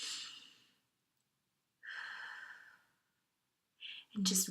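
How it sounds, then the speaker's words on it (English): Slow, deep breaths in through the nose and out the mouth, each a long airy exhale followed by a pause, close and quiet, ending with a sharper intake. "really breathe deep and just listen to the way the air comes through your nose and out your mouth"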